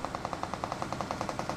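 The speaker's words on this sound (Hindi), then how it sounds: "उतने में ही गोलियां भिड़ जाती है आगे" Rapid automatic gunfire in the PUBG Mobile video game, a fast even burst of about fifteen sharp shots, fairly faint and alone.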